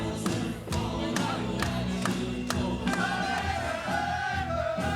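A crowd cheers at a Spain vs Great Britain World Cup of Pool quarter-final, rhythmic clapping and a sustained, boisterous indoor roar filling the arena at a steady level.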